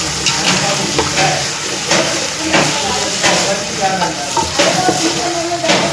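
Potatoes and peas being stirred in a frying pan for a mixed vegetable sabzi: a steady sizzle with rhythmic scraping strokes of a spoon repeating about every second, close and fairly loud.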